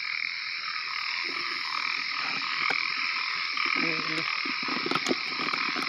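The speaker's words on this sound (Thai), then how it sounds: "วันนี้เนี่ย มีแต่กบใหญ่นี่" Big frogs croaking at night, a dense, continuous chorus of loud, buzzing croaks with deeper calls pulsing through, while someone speaks quietly underneath.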